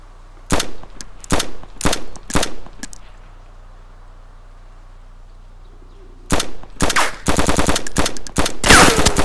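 Gunfire in the video game DayZ: a spaced string of single sharp shots, then a quiet pause, then a denser burst of rapid shots, loud and close.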